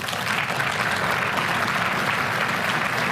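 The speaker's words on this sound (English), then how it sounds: "Let's give him one more round of applause" Sustained applause from an audience, dense and even clapping filling the space for several seconds.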